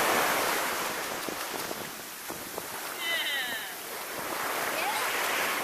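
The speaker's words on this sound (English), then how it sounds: "But I want to have the sound of the ocean." Steady broadband roar of ocean surf on a beach at Waves, North Carolina, rising and falling as waves break and wash in, with wind buffeting the microphone and brief faint voices in the mix.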